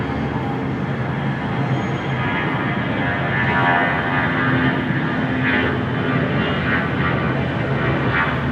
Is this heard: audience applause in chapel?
no